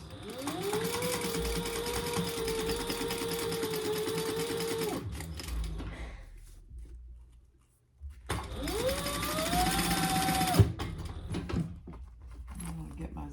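A sewing machine topstitches a zipper pouch in two long, close, steady runs of whirring stitches, rising as it speeds up, separated by a quiet pause.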